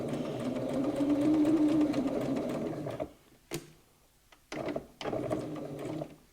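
Close, steady mechanical hum of a sewing machine stitching patchwork fabric, halting briefly with a few clicks, then starting up again in short runs.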